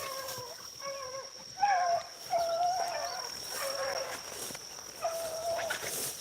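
Beagle hounds running a rabbit outdoors, giving squeaky, thin, strained yelps and high whining barks in short bursts at moderate distance, with faint background noise and no clear talk.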